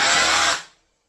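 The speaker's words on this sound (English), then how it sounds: "Only drill to the tape" A power drill whirs for a split second while fitting an oak mantle, then winds down and falls silent.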